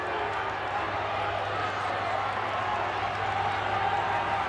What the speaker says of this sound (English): Listen to the crowd as Alexander complains